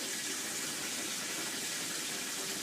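Water pouring and draining from rinsed peppers and onions in a kitchen, a steady broad hiss of running water throughout, moderately close with no talking.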